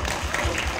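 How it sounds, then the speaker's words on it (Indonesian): An audience at a film presentation event applauds in a brief, steady burst of many hands clapping together, a dense even wash with a low rumble beneath it. "Ya, tepuk tangan"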